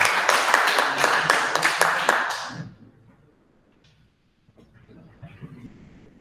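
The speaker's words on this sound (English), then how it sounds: "Please big round of applause for" Audience applause for a guest speaker at a community event, a dense burst of many hands clapping that runs loud for over two seconds, then dies away into quiet room murmur.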